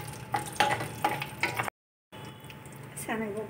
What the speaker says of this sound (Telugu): ముందుగా పోపులు వేపుతున్నాం.